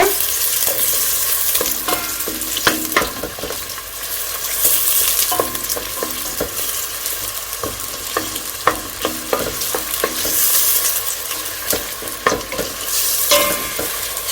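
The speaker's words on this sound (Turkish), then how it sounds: "Yağ kızdı. Şimdi soğan koyalım. Karıştıralım." Chopped onion frying in hot oil with steady dense sizzling, while a spoon scrapes and stirs the pan in repeated clacks. No voices are heard.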